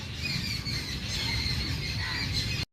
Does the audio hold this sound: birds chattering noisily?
yes